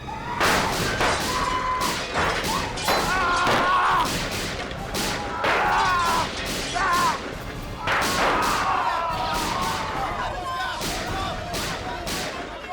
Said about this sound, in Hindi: बहुत गोलियां चली।